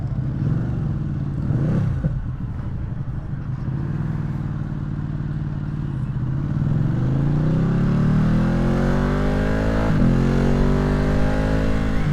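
A Ducati Streetfighter V2 with full exhaust and tune revving on a dyno, engine rising in a long sweeping pull that climbs steadily in pitch and loudness, close and unbroken with no talk.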